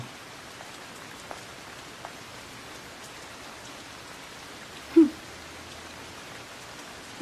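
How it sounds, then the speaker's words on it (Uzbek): Steady rain falls over a city street, a soft continuous patter with scattered drop hits and one brief louder knock partway through, with no talking. "yomg'ir yog'yapti-yu"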